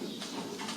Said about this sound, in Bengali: মাহবুর জানান, এখন বাণিজ্যিকভাবে কবুতর পালন করছেন তিনি।